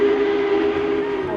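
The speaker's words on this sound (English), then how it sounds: "When the trains came in" A train arriving in Cheyenne for the Frontier Days rodeo celebration sounds a long, steady whistle. The single sustained tone holds throughout over a rumbling background.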